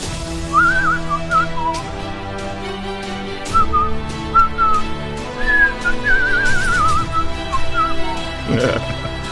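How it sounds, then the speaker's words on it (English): A person whistles a wandering melody up close, rising and dipping in short phrases over a steady background of other sounds. "Now I'm whistling all blog long."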